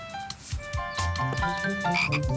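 Several frogs croak in a dense, overlapping chorus, with repeated low rasping calls close by and high chirps layered above, no talking.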